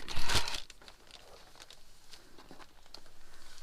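Magazine paper being cut for a junk journal: a loud crisp crinkling, snipping burst near the start, then quieter scattered paper rustles and light rasping cuts.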